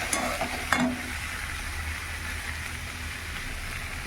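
Spice paste with potatoes and taro stir-fried in a pan, a steady low sizzle running throughout with a few faint scrapes near the start, fairly quiet and close, no voices.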